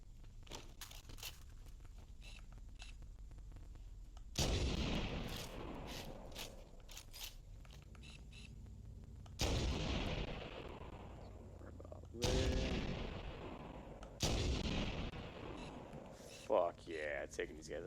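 Sniper rifle gunfire in Halo: Combat Evolved, several loud sharp shots spaced a few seconds apart, each followed by a rumbling decay, over steady game ambience with a voice talking.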